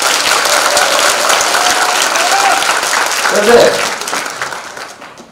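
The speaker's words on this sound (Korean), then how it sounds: "박수 한번 해봐" Lecture audience in Nowon applauding a presidential hopeful, a loud sustained burst of crowd clapping with a voice speaking briefly over it before the clapping tapers off.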